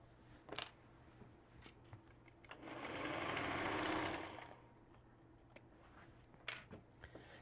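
A sewing machine stitches quilt seams of pre-cut fabric in one steady burst of a second or so, between quieter clicks and handling noises in a room.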